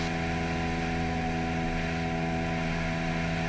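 A light aircraft engine drones steadily at full power during takeoff on a circuit lap at the Royal Newcastle Aero Club, loud and continuous with a constant propeller hum and no speech.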